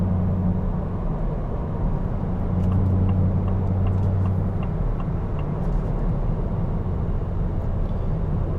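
A 2024 Ford F-150 Raptor R with a supercharged V8 and 10-speed transmission drives along, its engine a steady low drone heard from inside the cab with faint ticking, no speech.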